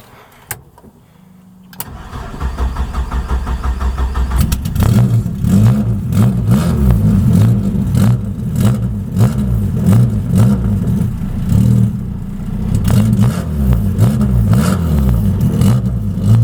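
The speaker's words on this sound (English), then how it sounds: "we're going to go ahead, crank it here, and see how she runs" A PT Cruiser with a newly fitted intercooler cranks and catches, then settles into a loud, steady idle with repeated throttle blips and revs, heard close up with no talking.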